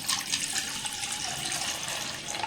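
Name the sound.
water poured over almonds to soak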